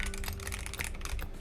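Rapid, close clicking keystrokes on a mechanical computer keyboard, a quick irregular patter of crisp taps at low volume.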